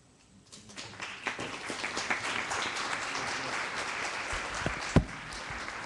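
An audience breaks into applause, building from quiet into sustained, dense clapping that carries on to the end with one sharp louder clap near the close.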